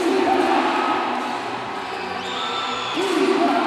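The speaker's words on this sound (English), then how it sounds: "you can hear how the crowd has come alive here at the Gor Kertajaya" An arena crowd at a professional basketball game at GOR Kertajaya roars and whoops continuously, swelling loud at the start and again near the end, with a commentator's voice running over the din.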